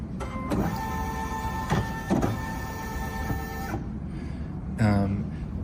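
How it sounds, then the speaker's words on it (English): An embroidery machine's carriage shifting into place after power-on, a mechanical whirring motor with short whines and clicks, fairly close and loud, stopping partway through before a final brief motor burst. "it'll notify you that this carriage is going to move a little bit"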